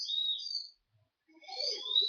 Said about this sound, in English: Bird is screaming.